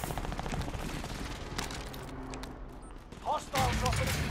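Pistol fire in a shooter video game comes as dense, rapid bursts of sharp shots under game noise, followed by a lull and then another loud burst near the end.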